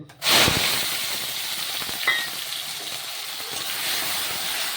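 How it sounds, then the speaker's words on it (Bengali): Blended onion paste hitting hot mustard oil in a wok, a sudden loud hiss that settles into a steady, close sizzle with a brief clatter partway through. "আমি কড়ার মধ্যে একটু সর্ষে তেল নিয়ে নিয়েছি এরপর আমি বাটা মানে ব্লেন্ড করা পেঁয়াজটা"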